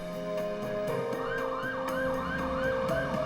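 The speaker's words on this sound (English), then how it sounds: "The sound of ambulances were a common and terrifying reminder" Ambulance sirens wail in repeated rising-and-falling sweeps, loud and continuous, layered over a steady low hum of traffic or vehicle noise, with no voices present.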